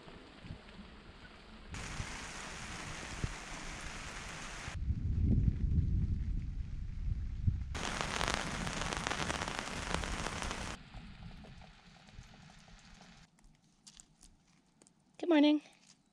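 Rain falls outside an off-grid cabin as a soft, steady patter. It swells into louder, dense washes twice, then thins again before a brief sharp noise near the end.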